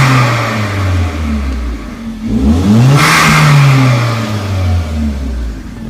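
A 2010 Hyundai Genesis 2.0t with its silencers removed and a cone air filter, idling loud and close, then revving up sharply with a rising roar before easing back down toward idle.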